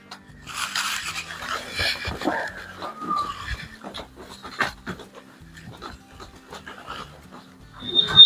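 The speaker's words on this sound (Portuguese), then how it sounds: "o Border Collie fazendo esse trabalho aqui de conduzir para você aqui" A Border Collie herding sheep on a farm pants and moves close by, with rustling and shuffling from the flock and faint background sounds.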